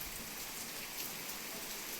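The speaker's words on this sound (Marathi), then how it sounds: "जोरात पाऊस येऊन" Heavy rain pours down in a dense, steady hiss with no breaks, close and constant throughout.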